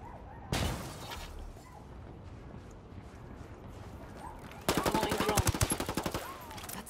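Automatic gunfire in the tactical shooter game Ghost Recon Wildlands: one sharp, loud burst, a quieter pause, then a sustained rapid rattling volley of closely spaced shots.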